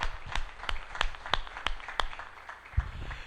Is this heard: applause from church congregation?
yes